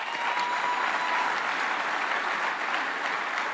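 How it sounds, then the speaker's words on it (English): An audience at a police awards event claps in a dense, steady round of applause that holds at full strength from start to finish, with no break and no clear speech. "Give yourselves a round of applause."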